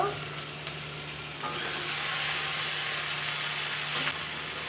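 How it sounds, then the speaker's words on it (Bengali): Fried fish heads go into a pan with turmeric and salt and sizzle steadily with frying hiss and some stirring, loud and close, with no talk. "দিয়ে দেবো হলুদ লবণ পরিমাণ মতো ভেজে রাখা মাথাগুলো দিয়ে দেব"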